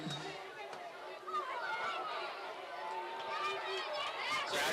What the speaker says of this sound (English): So Crowd's getting loud here.